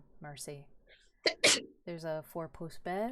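A short, sharp sneeze bursts out between stretches of a person speaking, close and loud against quiet surroundings.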